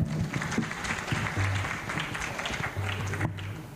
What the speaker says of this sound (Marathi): थँक्यू सगळ्यांकरता जोरदार टाळ्या.